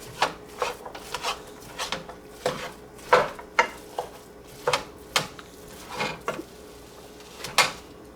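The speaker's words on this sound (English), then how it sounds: "I'm going to take my clean wooden spoon, mix up the onion a little bit." A wooden spoon stirs onion in a pan, a steady series of about fifteen scraping, knocking strokes close by, evenly paced, with no talking.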